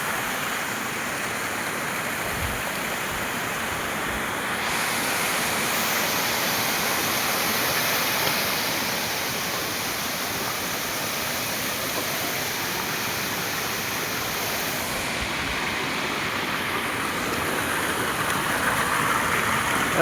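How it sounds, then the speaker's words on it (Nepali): Water of the Sikari stream flows steadily beneath a dam, a constant broadband rushing roar that holds an even level throughout, with no voices. "पुरै ढाप ड्यामको मुनि हुँदै आउने पानी हो यो खोल्सा"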